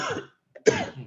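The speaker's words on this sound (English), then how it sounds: "Excuse me, I don't know why I'm coughing." Someone coughs twice at a youth grants celebration event, two short harsh bursts separated by a brief silence, close to the microphone.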